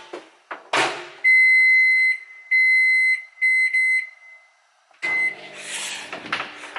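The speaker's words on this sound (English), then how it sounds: "just gonna pop this into the microwave real quick" A microwave oven beeps in a kitchen, several evenly spaced electronic tones in short bursts, followed by the whir and clatter of the door opening and handling, close and loud with no talking.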